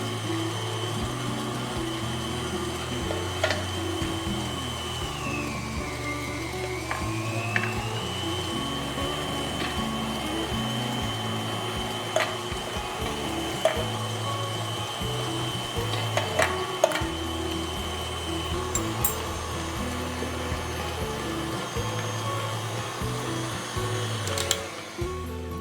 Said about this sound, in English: We've ground up our turkey and we've included a couple of pickles in there and ground those as well.